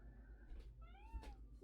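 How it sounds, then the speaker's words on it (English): A pet cat indoors gives two short mews in a row, the second rising and wavering, fairly faint over a low background hum. "My cat is mewing."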